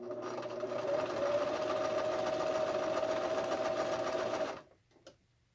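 A sewing machine stitching a hem on a cloth face mask, a steady close mechanical hum and rapid needle chatter running for about four and a half seconds, then stopping with a faint click.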